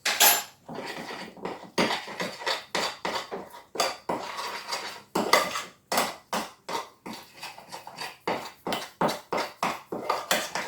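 A spoon or utensil clinks and scrapes repeatedly against a pot or dish while sweet paprika and thyme are stirred into a dish for simple pork knuckle cooked in beer, a steady run of close, bright metallic taps with no talking.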